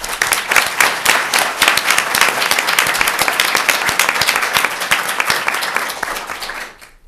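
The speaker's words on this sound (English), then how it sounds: "let me ask for another round of applause." A conference audience at a 2006 animal law symposium gives a loud, sustained round of applause, dense clapping filling the room for about seven seconds before tapering off at the end.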